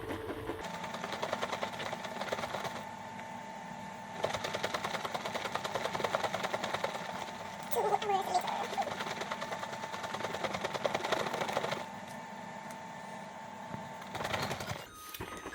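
Milk being frothed for a matcha latte, a steady mechanical whirring buzz at close range with slight shifts in intensity, ending abruptly.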